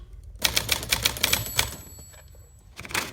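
On a 1956 Smith Corona Silent Super typewriter, a short flurry of sharp keystrikes sounds up close, then a brief lull with a faint ring, then a few more strikes.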